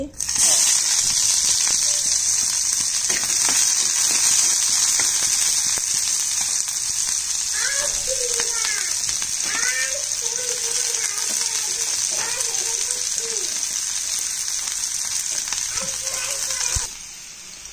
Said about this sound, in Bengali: এখন তেলটা গরম হবার দিলাম। এখন আমরা দিলাম পেঁয়াজ কুচি